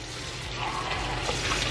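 Tap water runs steadily into a sink indoors, a soft continuous splashing rush, fairly quiet and alone.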